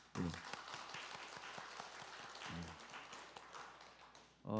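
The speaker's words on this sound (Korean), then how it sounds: "우리 하여튼간 그 존경의 박수를 한번" A church congregation applauds in a Korean Sunday service, a short burst of dense clapping that swells and holds briefly, with low voices under it.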